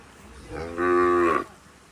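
A cow tied up on a farm lets out a single long, deep moo, close and loud, rising and then fading over about a second against a quiet background.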